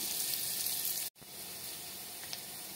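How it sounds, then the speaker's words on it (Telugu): Thinly sliced onions fry in a pan with a steady, even sizzle that cuts out for a split second midway, then resumes at the same level. "సన్నగా కట్ చేసి పెట్టుకున్న ఆనియన్స్, వీటిని కొంచెం వేగనిద్దాం."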